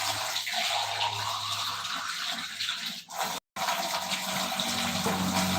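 Tap water runs steadily into a pressure cooker already holding pindang fish, a continuous splashing gush with a brief dropout partway through before it resumes.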